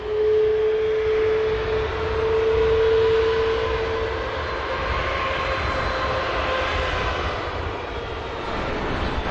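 Airbus A330 airliner at Manchester Airport producing a steady, loud broad jet roar with a whining engine tone that fades after a few seconds, heard continuously with no talking.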